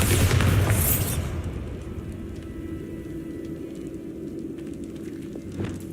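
A Bombarda explosion spell goes off in Hogwarts Legacy with a loud, heavy boom, followed by a steady crackling, rumbling roar of fire and debris that carries on evenly.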